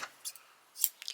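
Scissors trimming cotton yarn for a chunky knit bag, giving a few quick, crisp snips close by, with short metallic clicks and no talk.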